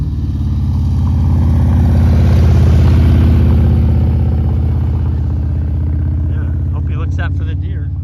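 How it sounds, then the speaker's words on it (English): A Harley motorcycle coming down a country road, its low engine rumble swelling as it draws near and passes, then fading, with a person talking briefly near the end. "Got a dang Harley coming down the road."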